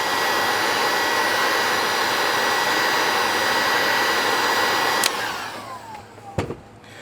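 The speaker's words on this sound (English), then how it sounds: "Then we take the heat gun and heat it up till it melts." A heat gun blows a steady, loud airflow roar while melting sound dampening material inside a UNIMOG 404 diesel, continuous for about five seconds before it cuts off, followed by a short sharp knock in the quieter tail.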